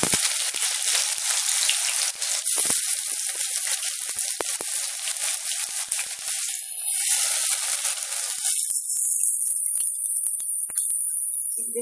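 Onions frying in a pan give a loud, steady sizzle with bursts of crackling and popping spatter, nearby and with no voices.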